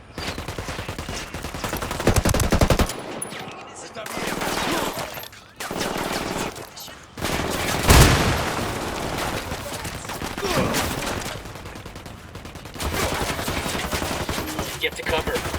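Loud, sustained machine-gun fire and gunshots from a firefight in Tom Clancy's Ghost Recon Wildlands, arriving in long dense bursts separated by brief lulls, with little talk.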